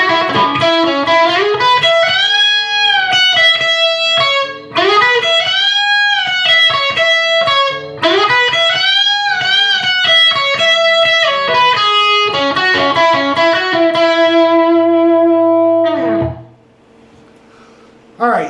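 Electric guitar playing the last section of a solo: loud, sustained, bending lead notes in repeated phrases, then a long held note that fades out near the end.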